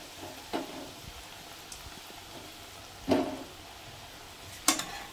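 Langcha sweets deep-frying in hot oil, a quiet steady bubbling sizzle broken by three sharp utensil knocks against the pan.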